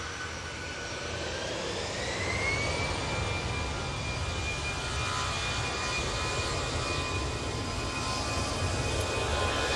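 A heavy TUI jet on final approach from Cancun at Manchester makes a steady, faint, distant drone with a thin whine that rises slightly early on, continuous throughout.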